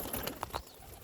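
A pigeon gives a short, faint coo or two, brief soft notes against quiet background.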